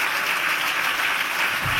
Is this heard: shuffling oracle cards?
no